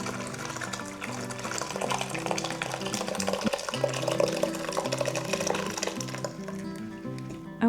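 Homemade queso fresco is poured from a pot into a cloth strainer set over a bowl. Liquid splashes and trickles steadily for several seconds at close range, with no talking.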